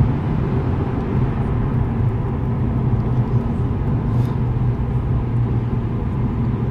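A Lexus GS F engine accelerating at full throttle, a steady deep rumble with road noise from inside the car, continuous and loud with no talking.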